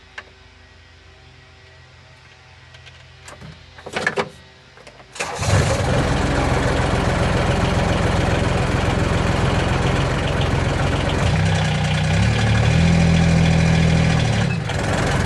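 After a few clicks and a short cranking sputter, a utility vehicle engine catches and settles into a loud, steady idle of about 79 decibels that continues to the end.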